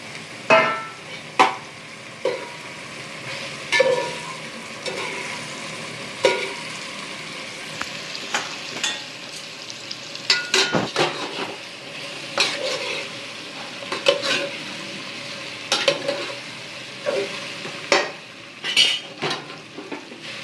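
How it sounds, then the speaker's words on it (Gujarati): Steamed colocasia (patra) leaves being stir-fried in a pan with a little salt, a soft sizzle under repeated scraping and clinking of a spatula against the metal pan, with irregular knocks throughout. "હવે આ એમાં પાતરા નાખી દઈશું."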